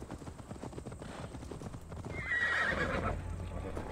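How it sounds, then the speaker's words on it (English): Donkeys in a video game, hooves clopping in a steady rhythm with a loud bray rising near the end, heard over game ambience. "A lot of donkeys here, bro."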